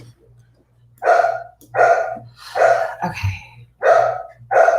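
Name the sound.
dogs barking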